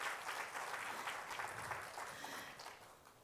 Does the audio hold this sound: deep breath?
no